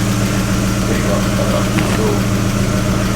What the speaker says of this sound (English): the Mk4 GTI definitely starts up, but for some reason it's very noisy